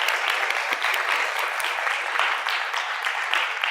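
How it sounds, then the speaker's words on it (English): An audience at a TEDx closing event claps steadily for the organizers, a dense, even wash of applause that holds its level throughout with no voices over it. "So I'd like to give them a round of applause too."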